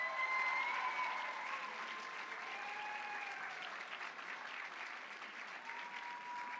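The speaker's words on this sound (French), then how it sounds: "On peut encore les applaudir bien fort." An audience applauds at a group cosplay contest at the Japan Impact convention, steady clapping heard at a distance and fairly faint, with some tonal sound running through it.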